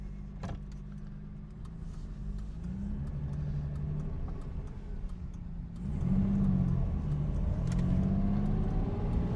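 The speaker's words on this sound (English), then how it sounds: "Oh shoot, there's traffic here." Road traffic heard from inside a 1967 Jaguar Mark II 340 with a 4-speed, as engines pass with rising and fading hums over a steady low cabin rumble, growing louder in the second half.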